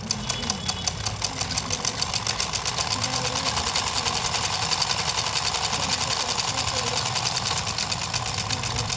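A sewing machine runs steadily while stitching a samosa-cut pajama, a fast, even mechanical chatter of needle strokes lasting the whole stretch, close and fairly loud with a low motor hum beneath.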